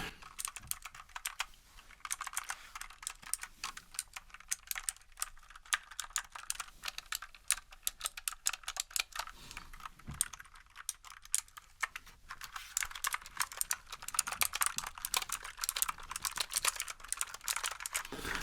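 Fingers type rapidly on a clicky mechanical computer keyboard, a dense stream of sharp close keystrokes with irregular rhythm and brief pauses, loud and alone without speech.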